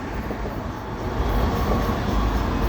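Florida East Coast Railway train at sunrise in St. Augustine, Florida, a steady, loud, close rolling rumble that swells slightly as it passes, with no voices.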